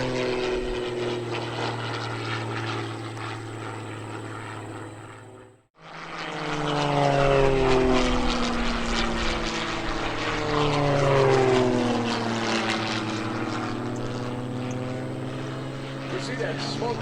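Aerobatic propeller airplanes of the Iron Eagle team fly at the 2013 Lehigh Valley Airshow. The engines drone loudly and continuously, dip briefly as one passes, then swell again with shifting Doppler pitch as the planes sweep close overhead.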